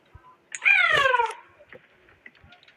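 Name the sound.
cat meowing in the video game Baby in Yellow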